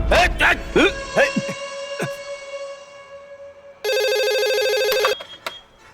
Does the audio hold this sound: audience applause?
no